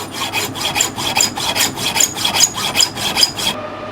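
A hacksaw cutting a metal workpiece held in a lathe: steady back-and-forth rasping strokes, about three per second, loud and close, stopping abruptly near the end.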